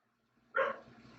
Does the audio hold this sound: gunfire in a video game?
no